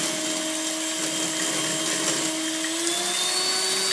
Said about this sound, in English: I keep the beaters in the middle so it doesn't splatter too much.